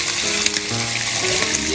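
Pork chops fry in a hot pan with a close, continuous crackling sizzle, dense with small pops and spits, running unbroken without any talk.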